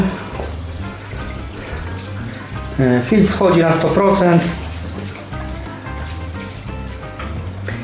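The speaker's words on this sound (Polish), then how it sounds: "Dobra, i dolewam wody" Water pours into a 450-litre aquarium during setup with an Aquael Hypermax 4500 BT canister filter, a steady rush that swells louder midway and runs continuously beneath someone talking.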